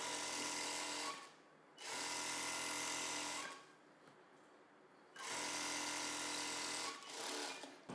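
A sewing machine loosely stitches the extra cloth at a blouse hem in three long, close runs of buzzing stitching, separated by quiet gaps, with no talking.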